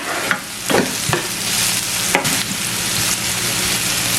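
Curry leaves and sliced green chilli sauté in hot oil in a pan, giving a steady close sizzle broken by a few scraping stirs, with no talking.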